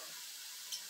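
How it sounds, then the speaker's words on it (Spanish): Angel hair noodles begin frying in a pan with the other ingredients, giving a steady, soft, close sizzling hiss that holds evenly throughout. "Ahora le vamos a aplicar el cabellito de ángel para que se empiece a sofreír con las cosas."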